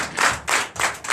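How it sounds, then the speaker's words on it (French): A church congregation at a Sunday service in Benin claps in unison, several loud, close rhythmic bursts of applause pulsing about every quarter second. "Donnez l'acclamation à Jésus."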